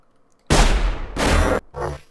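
Shotgun blasts in the hunting game Sir, You Are Being Hunted: two loud, booming shots each followed by a long rumbling decay, then a third, somewhat quieter burst, with no talking.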